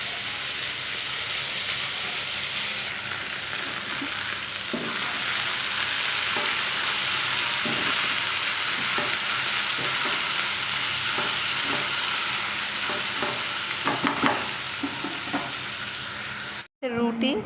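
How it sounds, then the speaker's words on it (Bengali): Sliced okra (bhindi) sizzles loudly in a pan of hot oil, a dense continuous frying hiss with scraping stir strokes showing up as scattered knocks, ending suddenly in a brief cut. "এখন ভেন্ডি ভাজা বসিয়েছি"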